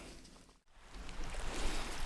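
Water of a feeder creek running into Cave Run Lake in Kentucky, a soft, steady outdoor rush that drops out for a moment and then swells back a little louder.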